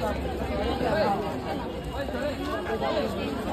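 A dense crowd murmurs and chatters continuously at the Mahakal corridor in Ujjain, a steady wash of many voices with no single speaker standing out.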